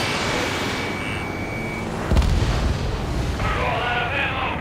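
Heavy gunfire and booming impacts pound a military base under attack in the combat flight game Ace Combat 7, with a dense rumble throughout and a sharper burst midway, no voices.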